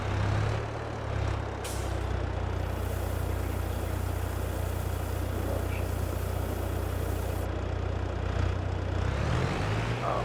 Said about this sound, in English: Tractor's coming a little bit